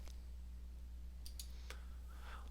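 Mouse clicks on a computer during an office software task, a few quiet, sharp clicks spaced apart over a steady low hum.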